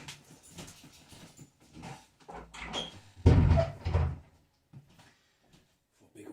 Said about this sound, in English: So, hold on, let me close this door.